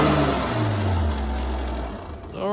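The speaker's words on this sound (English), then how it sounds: "you saw him rev it up there" A towed auction car's engine, started without a jump, revs up with a rising then falling mechanical whine over a rough running drone, close and fairly loud.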